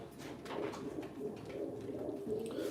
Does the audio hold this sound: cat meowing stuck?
no